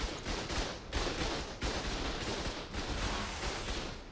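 Rapid repeated blasts of rockets and gunfire during a PvP raid in the Ark survival game, a steady barrage of broadband bursts at roughly regular intervals, moderately distant and continuous throughout.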